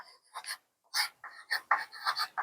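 Pen or marker strokes on paper or a board during a Hindi literature lesson, coming in short scratchy bursts with brief pauses, fairly close and quiet, with no one talking.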